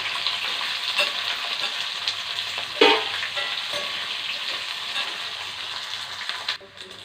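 Onions sizzle and crackle steadily in hot oil in a pan, a dense close frying hiss with occasional scrapes, for a Tamil non-veg kuzhambu with vegetables; no voices.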